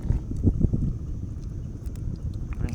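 Wind blows hard across open sea off the Philippine coast, a steady rushing buffet on the microphone with a few faint knocks and thin clicks above it, and no voices.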